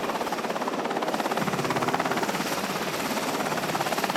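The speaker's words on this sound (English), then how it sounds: "its helicopters from the carrier begin a frantic search." Carrier-based helicopters on a submarine search, heard as a dense, continuous rotor drone with a fast rhythmic chop throughout, steady and fairly loud with no pauses.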